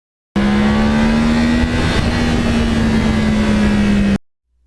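A Yamaha R1 with a crossplane engine holds a loud, steady drone while riding back roads along the Hudson River in lower New York State. The note climbs slightly, wind rushes behind it, and it cuts off abruptly.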